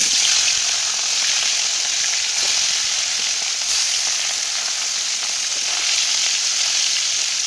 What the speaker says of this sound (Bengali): তেলটা ভালোই গরম হয়েছে, মাছটা দেওয়ার সাথে সাথে উঠে গেল।